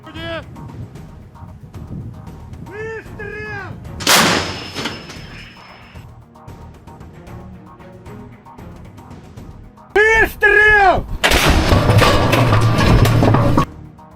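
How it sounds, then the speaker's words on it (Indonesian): Heavy fire from a Giatsint-B howitzer: a loud blast, then later a louder booming discharge with roaring rumble, under radio chatter and talk between shots, in a forest. "Pasukan artileri dengan cepat mengarahkan senjatanya ke sasaran dan menghancurkannya dengan tembakan cepat."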